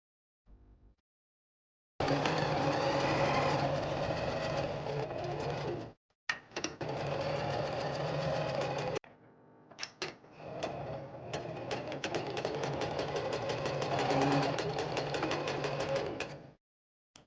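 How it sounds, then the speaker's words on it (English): A sewing machine joins the front and back of a princess-seam day dress in several long runs of steady, rapid mechanical whirring and clatter, separated by short pauses and a few clicks. "Finally sewing the front and the back together."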